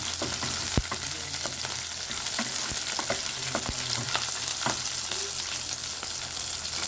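Cut garlic cloves fry in hot oil in a pan for a spicy Tamil-style chutney, giving a loud, steady, close sizzle with scattered sharp crackles and pops throughout, no voices.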